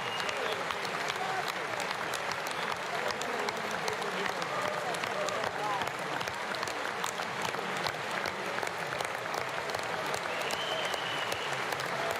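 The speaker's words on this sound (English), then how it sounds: "Let's see who is and is not clapping here." Sustained audience applause in the chamber at the 2020 State of the Union address, dense steady clapping from a large crowd filling the whole span with no breaks.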